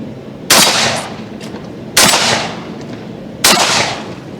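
Three loud, close shots from a Remington 1100 gas-operated 12-gauge shotgun, evenly spaced about a second and a half apart, each with a sharp blast and a decaying tail.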